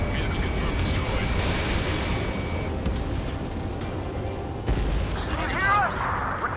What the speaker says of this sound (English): We're taking fire from multiple enemy tanks!